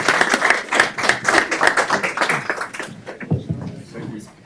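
Clapping from a small group at a county board of commissioners meeting, brisk and close for about three seconds, then thinning out as voices start talking over the tail.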